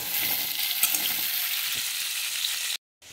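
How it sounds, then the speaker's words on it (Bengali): Potatoes frying in oil with turmeric and salt, a bright, steady hiss of sizzling close by with a few light stirring knocks, briefly dropping to silence near the end. "এবার একটু নুন দিয়ে আমি আলুটাকে ভেজে নেব।"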